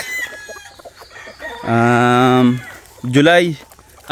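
Five-month-old Sweater gamefowl roosters crow loudly and close by in two long harmonic calls, with softer clucking and rustling between them.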